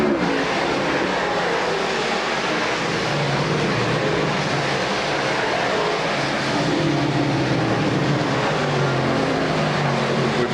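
Dirt track race cars, modifieds at Super DIRT Week, roar down the front straightaway in a dense, continuous engine drone that stays loud throughout, with no talk.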